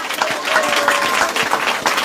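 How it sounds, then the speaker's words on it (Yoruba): A church congregation claps together in sustained, dense applause at a pastor's celebration, steady and loud with a few voices faintly mixed in throughout. "Ẹ pàtẹ́wọ́ náà."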